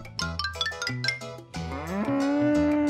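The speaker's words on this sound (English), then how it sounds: "Cow." Cow mooing in a children's animal alphabet song, one long drawn-out moo rising out of upbeat music and holding to the end.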